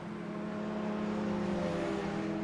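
A race car leaves the pits with a steady, close engine whine and a rising buzzing tone in one short continuous pass.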